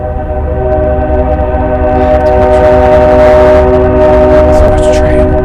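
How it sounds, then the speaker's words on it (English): A loud train rumbling close by with a long, sustained horn blast droning over the heavy low roar. "So much train."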